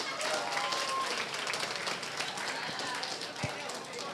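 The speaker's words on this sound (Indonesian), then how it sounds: "Boleh dong tepuk tangan buat kalian semua" Audience applause at a stand-up comedy show, a steady wash of clapping from a packed crowd filling the whole stretch at even strength, with a voice faintly audible underneath.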